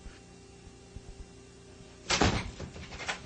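A door is shut with a single sharp thud and rattle, followed by brief handling noise as it is locked, heard fairly close after a quiet stretch of room hum.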